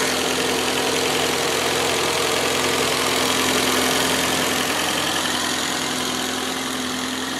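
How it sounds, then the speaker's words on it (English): A 1982 BMW 325's small four-cylinder engine idles with the hood open after about twenty minutes of driving, giving a loud, steady, close-up hum with a faint knocking texture and no talk. "Get in here and listen to the motor real quick."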